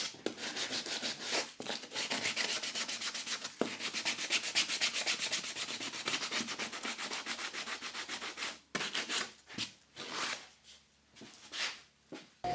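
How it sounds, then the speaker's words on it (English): Wooden acoustic guitar braces being sanded smooth by hand, a quiet, close scratchy rubbing in steady rapid strokes, broken by short pauses and a few uneven strokes toward the end. "All the braces must be sanded down smooth to improve the sound quality."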